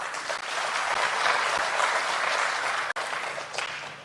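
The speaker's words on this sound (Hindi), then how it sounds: "तालियां बजा दीजिए एक बार।" Audience applause at a Hindi poetry gathering (kavi sammelan) in Bhopal, a steady, dense wash of clapping sustained for about four seconds with a brief dip near the end.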